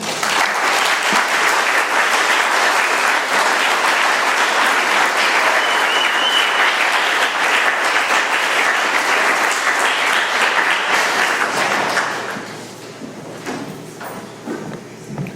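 A room full of listeners gives a long, loud, steady round of applause after a speaker's talk at a gathering in Doylestown, Pennsylvania, fading abruptly near the end to scattered claps and murmurs.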